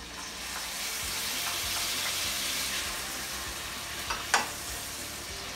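Tuna cooks in a pan with softened onion and garlic, giving a steady, dense sizzle throughout, with a couple of brief sharper clinks near the end.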